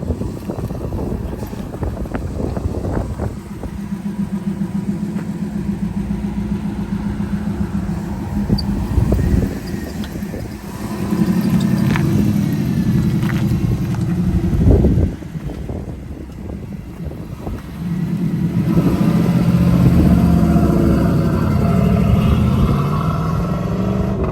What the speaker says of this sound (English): It's got that one Magnaflow muffler on it. Sounds really nice.